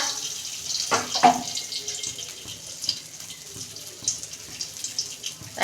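Water is poured off chopped ridge gourd in a kitchen, a short splashing pour followed by light trickles and drips, near and fairly soft.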